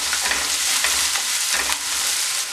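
Garlic and ginger sauté in hot oil for a chilly potato dish, giving a steady, close frying hiss with light scraping from stirring throughout.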